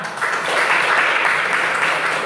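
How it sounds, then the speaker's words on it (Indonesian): A school class applauding together in a classroom, a steady wash of many hands clapping, close and fairly loud, filling the short moment without voices. "kita tepuk tangan sama-sama untuk kita semua."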